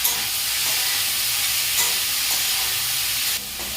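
Capsicum and boiled vegetables frying in a pan for a veg paneer rice dish, a steady moderate sizzle and hiss with a few soft stirring taps.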